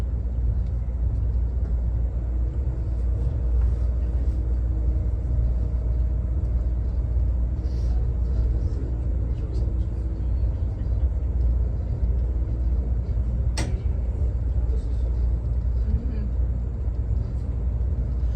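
A steady low rumble inside a moving passenger train at the Tennessee Valley Railroad Museum fills the scene, constant and loud, with a single sharp click partway through.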